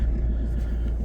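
A Ford Transit Connect van engine idling after a vapouriser fault repair, a steady low rumble close by with no talking.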